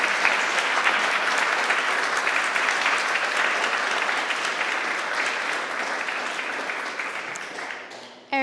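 A live audience applauds at the close of a talk at a ZBrush sci-fi sculpting workshop, steady dense clapping that holds for several seconds and then trails off.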